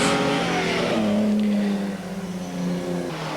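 Healey 3000 race cars accelerate hard during a race, engines revving and rising in pitch, loud and close before fading slightly as they pass.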